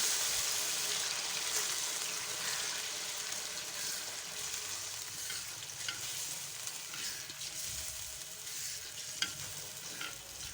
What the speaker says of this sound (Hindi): जो हमने सूजी में दूध डाल के रखा था, वो सूजी इसमें डाल देंगे।